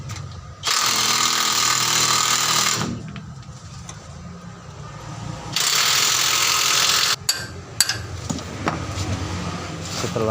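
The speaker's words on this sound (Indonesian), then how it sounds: "Kita akan mencopot pelan-pelan baut-bautnya." Power tool loosening bolts on the differential of a Hino Ranger truck, two long loud whirring bursts with a pause between, followed by clanks and rattling of loosened parts.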